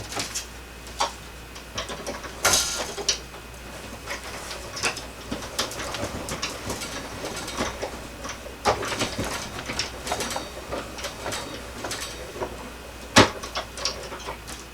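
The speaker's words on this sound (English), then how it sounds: "now I'm just going to run this through my die cut and embossing machine" A manual die cut and embossing machine pressing black cardstock through a Swiss dot embossing folder gives off steady, close mechanical clicking and ratcheting with a few sharper knocks over about fifteen seconds, with no talking.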